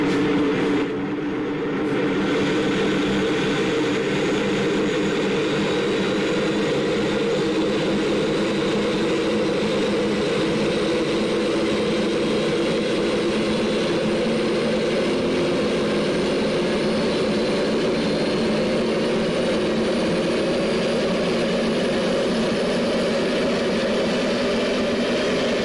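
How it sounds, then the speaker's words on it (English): A Concorde's number 2 engine starts in a flight simulator game, a sustained jet roar that holds steady at a loud, even level with a rising turbine whine layered on top, and no talking. "There we go, that's now engine number 2 started."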